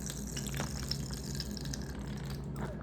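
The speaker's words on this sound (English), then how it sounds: "I'm going to take my bag and my gel and I'm going to pour the gel in there." Thick sensory gel is poured from its container into a plastic bag, giving a soft, steady liquid gush that stays faint and continuous over low background hum, with no talking.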